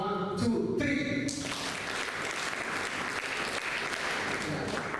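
Workshop audience claps together after a short burst of voice at the start, with the clapping then running on steady and even, moderately loud and filling the room.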